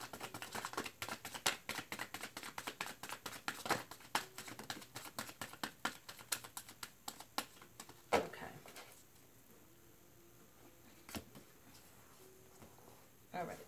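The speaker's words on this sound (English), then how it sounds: "Okay, last shuffle." Tarot cards shuffle with rapid, steady flicking and patter for several seconds, then slow to a few scattered taps, close and soft.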